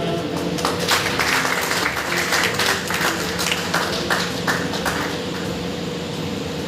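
Members at a general assembly of the Sanskar Bharati cultural group in Shahganj, Jaunpur, held to elect a president, applaud in a dense wash of claps under a low hum in the hall.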